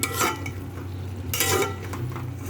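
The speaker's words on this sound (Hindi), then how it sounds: "अब हम इसमें फ्राई की हुई भिंडियाँ शामिल कर रहे हैं" Fried okra tipped into a pot of cooking chicken and mixed, with scraping and clinking of a spoon against the metal pot in a few short bursts over a low background hum, no talk.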